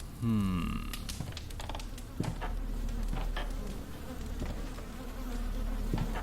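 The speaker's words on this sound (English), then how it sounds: "I'm hearing bees or flies or something." Droning insect buzz, like bees or flies, in the video game Anna Extended Edition, hovering in the background over a low hum, with occasional soft clicks and taps.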